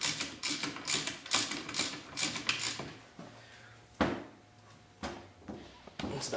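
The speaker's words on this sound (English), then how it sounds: "We're just gonna tighten it down by hand and use the half inch drive, and we're gonna snug it down." A half-inch drive ratchet tightening a fine-thread seal during a differential swap, heard as a close burst of quick pawl clicks, then a few short separate ratcheting strokes and metallic knocks.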